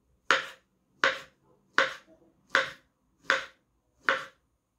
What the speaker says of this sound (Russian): Теперь нарезаем бананы кружочками.